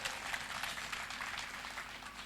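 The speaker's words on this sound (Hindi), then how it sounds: "बार इनके सम्मान में और ताली बजाइए।" An audience claps in a steady, dense burst of applause at a Hindi comic poetry gathering (hasya kavi sammelan). The clapping is close and fairly loud and carries on without a break.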